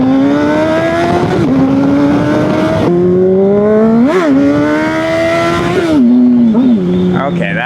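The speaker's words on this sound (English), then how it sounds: "Okay, that was the last wheelie" Super Sport motorcycle engine revving hard during a wheelie, a loud continuous whine climbing and dipping in pitch with sharp blips as the throttle opens and closes, with a voice speaking over it.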